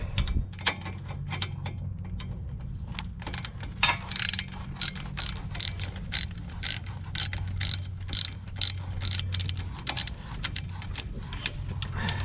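A hand ratchet with a 12mm socket backs out bolts on a 2007 Toyota Sienna during strut replacement, giving rapid, close clicking pawl bursts in uneven runs, alone without speech.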